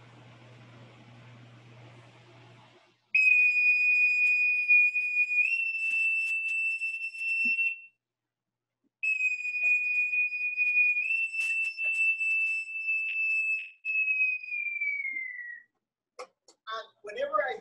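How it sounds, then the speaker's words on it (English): A bosun's pipe sounds a shipboard wake-up call for sailors: long, shrill sustained notes with slight pitch shifts, one brief pause, then a slowly falling tail, loud and close after a few seconds of faint murmuring. "they would hear their alarm clock, which was a whistle."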